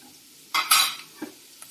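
Turmeric and ginger-garlic paste mixed into frying onions in a pan for egg fried rice, a quiet start followed by a brief burst of sizzle and scraping, then a couple of light spoon taps against the pan.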